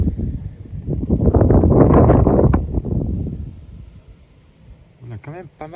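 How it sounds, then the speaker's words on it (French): Strong outdoor wind buffets the microphone in a long gust that swells to a loud rumble and then eases, with a voice speaking briefly at the end. "On a quand même pas mal de vent là."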